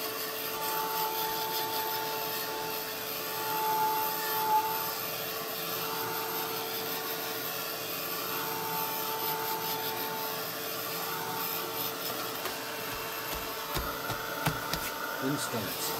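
A small dryer blowing steadily over a journal page, a continuous whirring drone with faint intermittent rubbing and handling sounds, and a voice talking near the end.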